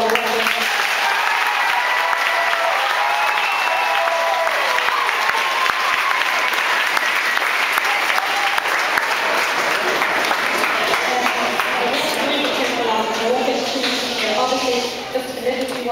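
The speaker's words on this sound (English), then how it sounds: "you should all give yourselves and your teachers a huge round of applause for all the work" Sustained applause from a school audience honouring Irish-language music groups and their teachers, dense and steady for the whole stretch with some crowd noise mixed in.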